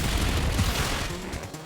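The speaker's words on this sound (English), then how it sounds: "let me try with the Flash Cannon" Flash Cannon, a move in a Pokemon video game battle, erupts as a dense, loud blast of crackling, booming noise that fills the whole short moment without letting up.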